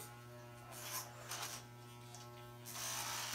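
Electric hair clippers buzz steadily close up during a short haircut, a constant hum with slight shifts as the blades move through hair.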